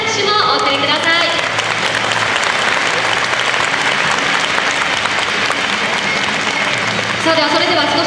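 A large fan event audience applauds the reveal of a 2020 season team uniform, with sustained, dense clapping from the crowd throughout and an amplified voice briefly audible at the start and end.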